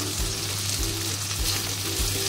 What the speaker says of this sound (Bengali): এবার মশলাটা এইভাবে ভালো করে কষিয়ে নেব।